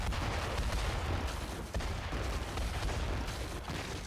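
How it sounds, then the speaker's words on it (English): Continuous loud rumbling blasts and crackling booms fill a collapsing cave in the Metaphor: ReFantazio video game, a dense, unbroken barrage of explosions with no clear pauses. "Why is it exploding?"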